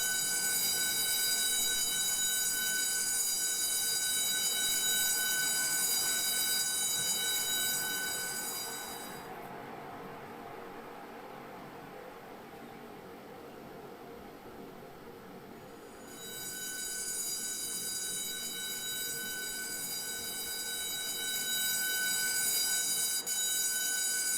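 A ship's alarm on the sinking Britannic calling the crew, evacuation order: a loud sustained ringing tone that cuts out for several seconds in the middle, then resumes steadily.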